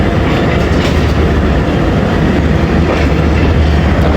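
The Baba Fareed Express, a passenger train, pulls out of Kangan Pur station on a branch line, a loud, steady, close rumble of wheels and carriages that continues unbroken throughout.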